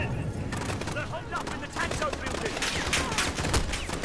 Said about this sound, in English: Where am I getting shot from?